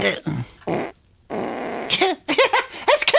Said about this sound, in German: ich habe gefurzt